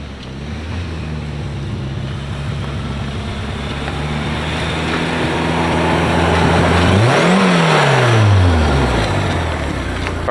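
A turbocharged VW Type 3 Fastback engine drones loudly and steadily, then swells with a rising and falling rev near the end over wind noise, with no speech.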